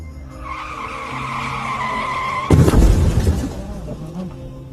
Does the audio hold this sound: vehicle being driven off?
yes